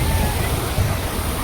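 A river runs past the Khodiyar Mata temple near Chikhli, its water rushing in a dense, continuous, loud roar with no breaks, close at hand.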